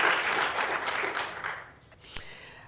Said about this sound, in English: you should take a clap for that